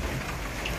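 Steady rain pours onto roads and streets in Bengaluru, a dense, even hiss of drops with no gaps, moderately loud and heard alone.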